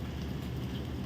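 Mutton curry frying in a pan gives a dense, continuous sizzle and crackle, close and steady throughout.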